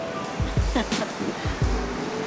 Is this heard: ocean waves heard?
yes